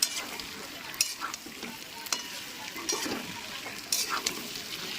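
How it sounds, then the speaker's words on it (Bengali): Chicken sausages, potatoes and onion fry in a pan while they are stirred, giving a steady sizzle broken by repeated scraping strokes of a spatula close by. "এবারে ভালো করে নাড়াচাড়া করে নেবো"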